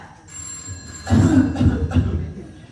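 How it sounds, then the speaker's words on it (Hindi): A telephone rings with a thin, high tone, soon covered by louder rumbling noise. "देखिए फोन आया।"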